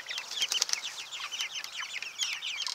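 Hungry meat chickens on a homestead in the morning, a busy flock of overlapping clucks, chirps and wing flaps, fairly close and continuous.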